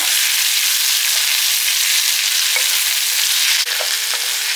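Small-cut vegetable pieces sautéing in a pan for a simple chutney, a steady loud sizzle with a few faint stirring clicks, no talking.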